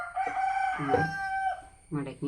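A rooster crows loudly in one long, wavering call from a neighbouring house, and a voice briefly speaks just after the crow ends.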